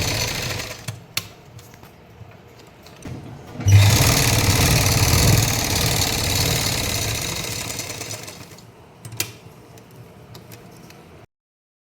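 A sewing machine stitches a pocket onto a salwar in one close, steady burst of whirring lasting several seconds. Quiet clicks and handling noises come before and after it.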